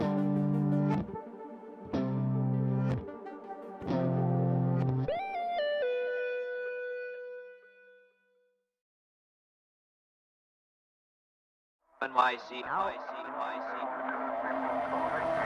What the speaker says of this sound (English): This is the sound of construction underway on the New York side of the project.